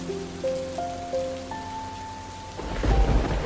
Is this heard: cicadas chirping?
no